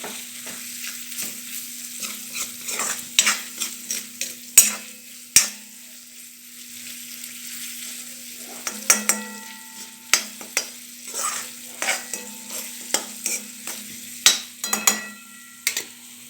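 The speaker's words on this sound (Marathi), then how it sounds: "ह्याला नीट असं एकदम एकजीव करून घेऊया, म्हणजे टेस्ट छान सुटेल एकजीव झालं तर" A spoon stirs and scrapes peanut bhaji in a frying pan, with repeated sharp clinks and scrapes in irregular bursts over a faint steady sizzle, close and without speech.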